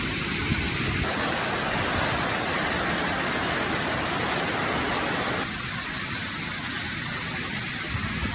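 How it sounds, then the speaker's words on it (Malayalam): Narekkolli waterfall, a former quarry site, roaring as a dense, steady wash of falling water, loud and continuous with no voices. "ഇതാണ് ഞാൻ പറഞ്ഞ സ്ഥലം, നമ്മുടെ സ്വന്തം നാരേക്കൊല്ലി വെള്ളച്ചാട്ടം"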